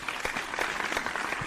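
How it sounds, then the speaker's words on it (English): Brief applause for comedians Bert Kreischer and Tom Segura, a soft, dense patter of clapping from a small group, fairly even and low in level throughout. "So let's give a round of applause"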